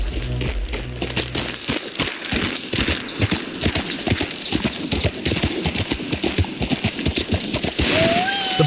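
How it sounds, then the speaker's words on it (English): Horse hooves clattering across frozen lake ice in Red Dead Redemption 2, a dense run of loud, near clip-clop strikes that keep going before the horse slides to a stop, with some game background noise. "The poor horse skidded like it was wearing roller skates, sliding before finally coming to a stop."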